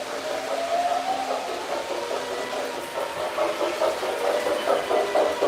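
A loud model train engine (a military-themed set) runs at a steady pace, with a droning motor whine and a rhythmic clatter of small wheels repeating throughout.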